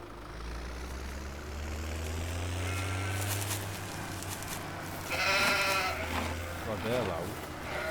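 Sheep bleating in the farming game Farming Simulator 2017, several loud wavering calls rising over a low vehicle engine drone in the second half, with someone talking throughout.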